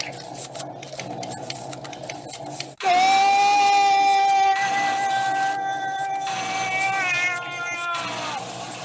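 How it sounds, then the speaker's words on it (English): After background whirring, a long, loud, wavering high-pitched scream cuts in and holds for several seconds before fading under continuing noise. "And there had never been such pain and such a scream."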